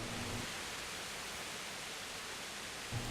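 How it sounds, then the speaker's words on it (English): Steady, even rain hiss in the video game Kingdom Come: Deliverance, filling the space without pause, soft and uniform, with a faint low hum briefly at the start and end. "Okay, it's raining."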